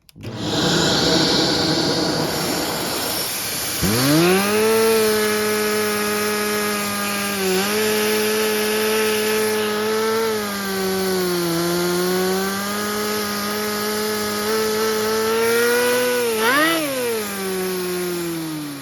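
A small engine runs with its idle set too high, near 4,000 RPM, holding a loud, steady buzzing drone that wavers slightly in pitch, with a brief rev blip near the end.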